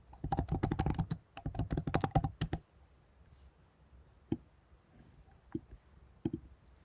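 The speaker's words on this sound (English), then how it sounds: "I'll type Frappe." Typing on a computer keyboard, close and fairly quiet: two quick bursts of rapid key clicks, then a pause broken by a few isolated keypresses.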